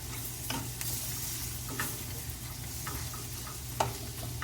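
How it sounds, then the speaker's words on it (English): Stuffed okra (bharva bhindi) is stir-fried in a pan, with a constant sizzle beneath repeated scraping strokes of a spatula at an uneven rhythm, close up and without speech. "We have to stir fry for the 4 or 5 minutes"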